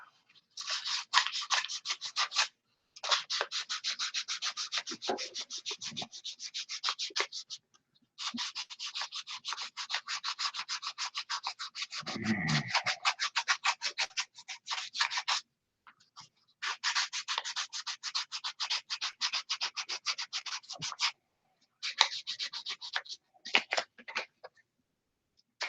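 Hand sanding paint off a surface, with steady back-and-forth scratchy rubbing strokes that run in long, close bursts separated by short pauses, loud and near with no talking.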